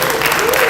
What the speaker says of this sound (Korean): 박수와 환호로 맞이해주시면 감사하겠습니다